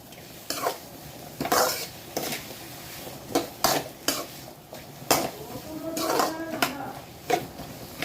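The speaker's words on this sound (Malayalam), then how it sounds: "ഇളക്കിയൊന്ന് യോജിപ്പിക്കും" Spoon scraping and clanking against a metal pot while salted ingredients for a prawn and tapioca biryani are stirred together, sharp irregular knocks over a quiet background with a faint cough-like sound.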